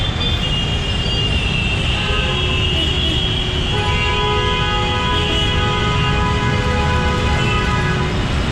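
Vehicle horns toot repeatedly at a large, busy road crossing amid steady, loud traffic and engine noise, heard from a moving motorcycle.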